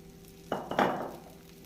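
Dosa batter cooking on a hot griddle as oil is poured on, giving a sudden loud sizzle that comes in two quick bursts and then fades off gradually.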